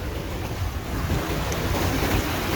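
A vehicle drives through a deeply flooded street in Sharjah, a steady loud wash of churning water mixed with wind noise on the microphone, with a low rumble underneath.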